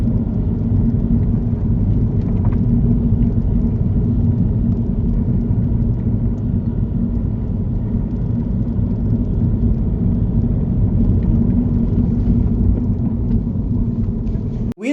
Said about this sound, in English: Vince, if it wasn't for this bumpy road, I think I'd be falling asleep here